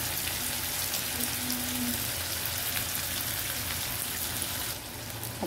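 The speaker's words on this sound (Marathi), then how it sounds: "थोडी कढीपत्ता टाकणार, नंतर बारीक चिरलेला कांदा, बारीक चिरलेला मिरची" Curry leaves, finely chopped onion and green chilli sizzle steadily in hot oil in a pan for egg bhurji, a dense, even crackle lasting throughout, with no voices.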